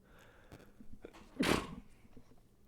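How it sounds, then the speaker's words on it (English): A single sharp human sneeze bursts out loud and close, briefly standing out against quiet room noise and faint breathing before and after. "Sorry about that. I sneezed."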